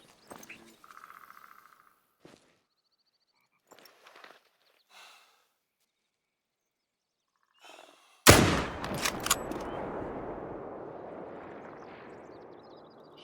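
A single hunting rifle shot in theHunter: Call of the Wild rings out loud and sharp after quiet stretches of faint rustling and footsteps, followed by a long rolling echo that slowly fades.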